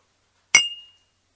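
Glasses clink once in a toast, a single bright, close ring that fades over a fraction of a second amid otherwise silence.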